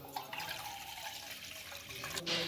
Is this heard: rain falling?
no